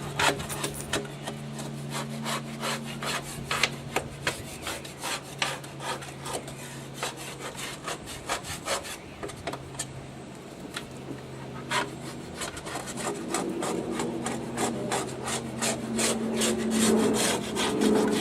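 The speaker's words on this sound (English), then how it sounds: "Just take my putty knife and go around and scrape it off." A putty knife scrapes an old gasket off a metal smoker in repeated short strokes, a raspy, rhythmic scratching close up with a low background hum and no talk.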